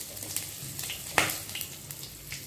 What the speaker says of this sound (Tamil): எண்ணெய் சூடானதும் கொஞ்சம் சோம்பு சேர்த்துக்கலாம். சோம்பு பொரிஞ்சவொன்னும் ஒரு சின்ன துண்டு பட்டை, ஜாதிபத்ரி, கிராம்பு சேர்த்துக்கலாம்.